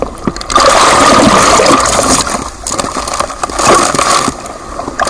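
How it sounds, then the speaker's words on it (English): Big ocean waves off Cornwall around a surfer paddling out, a loud rushing wash of water that surges, eases briefly, then swells again close by. "Paddling out these big waves."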